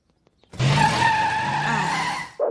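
Cartoon funny cars skid at the start of a no-rules race, a sudden loud tire screech that holds for about two seconds and then cuts off sharply.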